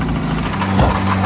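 A Mazda Miata engine running on soap in place of motor oil, close and loud, a steady rough drone with a knocking, strained edge and a slight surge in the middle.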